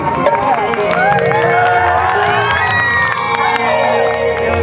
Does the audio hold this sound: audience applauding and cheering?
yes